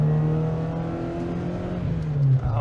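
A swapped-engine 1980s BMW 316i revs hard as it accelerates on a small winding road, a loud, close, rising engine drone that climbs steadily in pitch and swells near the end.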